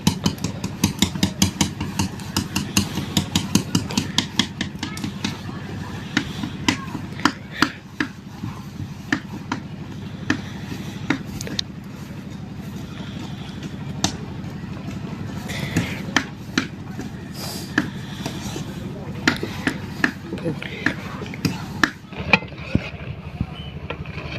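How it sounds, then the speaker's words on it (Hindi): Repeated rhythmic thuds of pounding cooked leafy greens in a pot, steady and close, with a low motor hum running underneath throughout. "भाजी में मम्मी कूट रही है, अच्छे से उसको मुलायम कर रही है"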